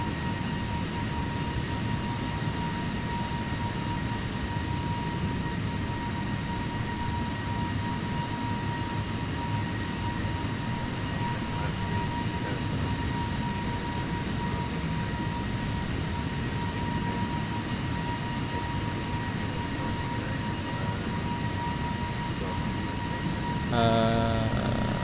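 Airliner jet engines on a climb after takeoff in Microsoft Flight Simulator, a steady, loud, continuous roar and hum that holds throughout, with a brief burst of clicking cockpit sounds near the end.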